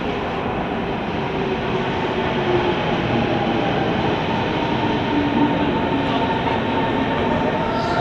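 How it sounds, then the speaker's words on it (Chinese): A city train passes close by, a loud, continuous rumble of wheels and carriages with faint rail clatter that holds steady the whole time. "不是地铁了，是城市火车"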